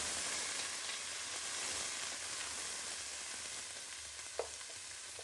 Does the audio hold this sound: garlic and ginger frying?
yes